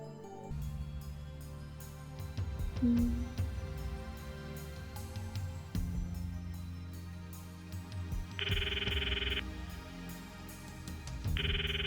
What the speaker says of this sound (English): The ringtone echoes in my ears.